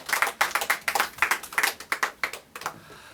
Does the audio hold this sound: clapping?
yes